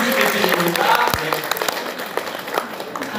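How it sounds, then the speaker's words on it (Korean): Audience applause at an indoor-plants seminar in Puku District, steady clapping through the whole moment, with some crowd murmur and voices mixed in. "여러분들 뜨거운 박수 한번 부탁드리겠습니다"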